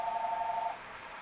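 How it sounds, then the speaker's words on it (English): A telephone rings in the background, a faint, short electronic tone that sounds for well under a second in a quiet room, with no talking. "Sorry for that phone ringing in the background."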